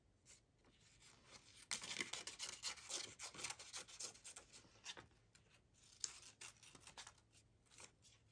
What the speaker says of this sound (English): I think it's fun sometimes to cut out the embroideries